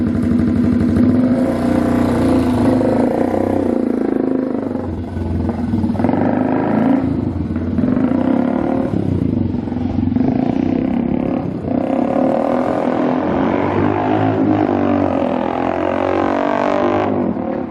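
A 2023 Honda Grom motorcycle engine revs loud and close, its rough roar rising and falling through repeated throttle blips without a break.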